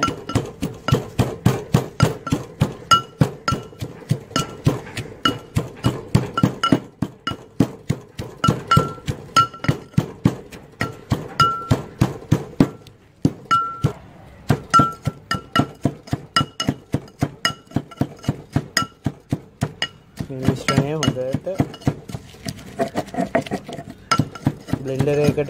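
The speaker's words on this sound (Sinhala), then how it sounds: "බ්ලෙන්ඩර් එකකට වඩා මෙහෙම වංගෙඩියකින් මේක කොටා ගත්තම තමයි මේකට තියෙන හරිම රසය ගුණය අපිට හම්බ වෙන්නේ" Curry leaf sambol with shallots and green chillies pounded by pestle in a large wooden mortar: steady, close, rhythmic thuds repeating throughout, with a brief pause midway and a looser, scraping texture near the end.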